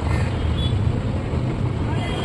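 Road traffic rumbles outside a window in a residential area, a continuous low engine and tire drone with passing vehicles, heard steadily beneath the room sound.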